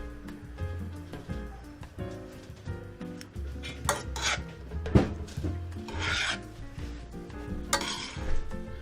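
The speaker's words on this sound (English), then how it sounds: "Now what we're going to do is just mix it up" Spaghetti with bacon and corn is stirred and tossed in a pan, giving repeated scraping and rubbing strokes of a utensil against the metal over a low sizzle, heard close and uneven.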